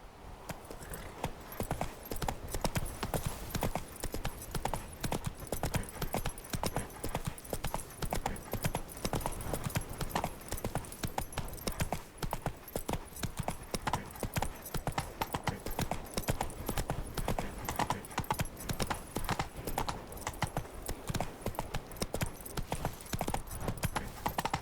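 A horse in The Witcher 3 gallops without a break, hooves pounding in a fast, even rhythm, loud and close.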